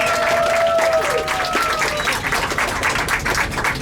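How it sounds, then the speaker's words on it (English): Trolley tour passengers in Hershey, Pennsylvania give a round of applause: brisk, loud clapping that fills the whole stretch, with a few faint voices and a thin whistle-like tone in the background. "give John a round of applause."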